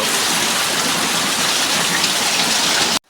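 Heavy monsoon rain pours outside a house, a dense, loud, unbroken hiss of drops on surfaces for about three seconds before cutting off abruptly.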